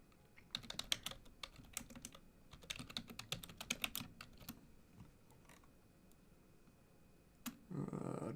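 Rapid typing on a computer keyboard clicks in irregular clustered bursts of keystrokes, close and fairly quiet, then thins to scattered taps before a brief rustle at the end.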